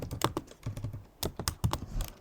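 Someone types on a Mac computer keyboard in a quick, uneven run of soft, close key clicks, a dozen or so taps in short bursts with brief pauses between them. Nobody speaks.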